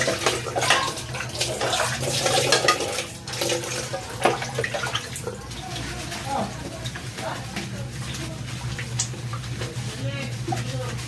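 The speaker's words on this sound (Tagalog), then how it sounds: "ito yung iniigiban ko ng tubig" Steady splashing of water being drawn into a container in the Philippines runs throughout, with a faint low hum and some speech-like sounds underneath.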